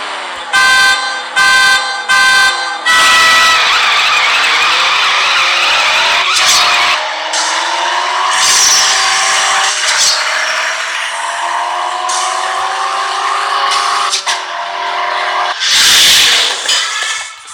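A race car in the CSR Classics racing game, said to sound like an inline six, revs loudly through rising gear pulls with sharp shift breaks, beginning with short staccato blips and ending in a final burst.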